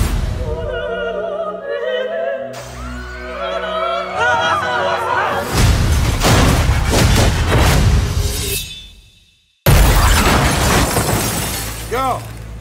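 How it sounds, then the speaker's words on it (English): A car crashes into a restaurant in a movie trailer, with a loud boom and a burst of shattering glass amid dramatic music, crowd noise and people talking. "You smashed the car to a restaurant!"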